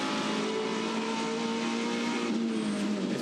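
A touring car from the Touring Car Masters field at Adelaide races toward turn 8, its engine a loud, steady drone held at constant pitch throughout, close and unbroken.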